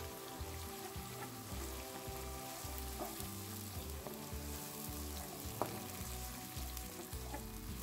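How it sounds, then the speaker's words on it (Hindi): Chopped tomatoes fry steadily in a pan for a chana dal, giving a continuous close sizzle with faint stirring scrapes and no voices. "टमाटर डालने के बाद इसको अच्छी तरह से भूनूंगी ताकि टमाटर भी गल जाएं"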